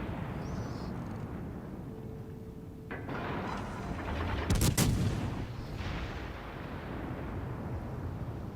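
Warship guns fire a naval artillery salvo in World of Warships Legends, a loud broadband blast around the middle with rumbling tails, set against steady ocean and engine ambience from the game.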